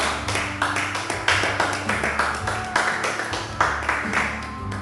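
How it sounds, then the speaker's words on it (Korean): Rhythmic clapping fills a church as the congregation applauds, steady and fairly close, with the beat pulsing in regular accented groups and no voices over it. "하나님 영광의 박수를 드리겠습니다"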